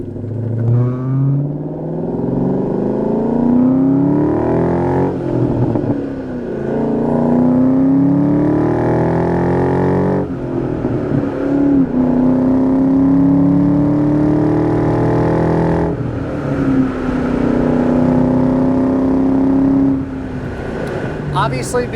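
Engine of a 2001 Ford Saleen with a 4.6 V8 and five-speed manual pulling hard through several gears on a test drive, rising in pitch with each gear and dropping at shifts, steady and close inside the car.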